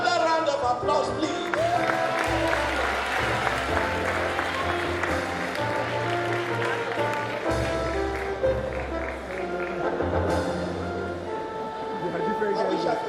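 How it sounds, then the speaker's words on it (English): Round of applause for an award recipient at a dental graduates' swearing-in ceremony, steady crowd clapping in a hall with music playing underneath and some voices mixed in. "Another round of applause, please."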